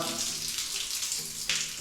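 Water hisses steadily from a small replacement shower head, a close, continuous spray with a brief surge near the end.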